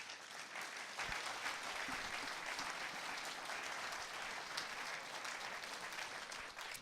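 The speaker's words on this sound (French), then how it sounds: "Merci Andrezza, on peut l'applaudir." Sustained applause from a conference audience at a round-table event, steady dense clapping filling the whole stretch at an even level, with no talk over it.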